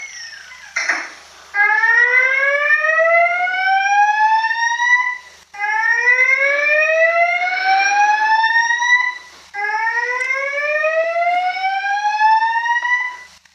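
In the Avatar World video game, a fire alarm sounds during a fire drill: three loud, clear rising electronic whoops, each lasting a few seconds with short gaps between, heard alone.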